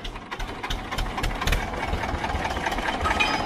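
A tractor engine idles close by in a short stretch, a steady low rumble with a rapid knocking pulse and no talk over it.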